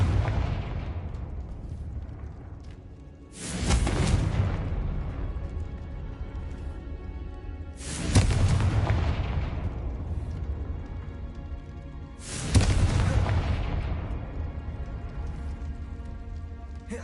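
Three heavy fire-spell blasts from the Confringo spell in Hogwarts Legacy, each a sudden loud boom decaying into a long rumbling roar, spaced about four seconds apart.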